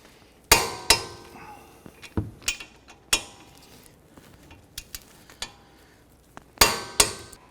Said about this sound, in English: we're going to go ahead and torque these two bolts here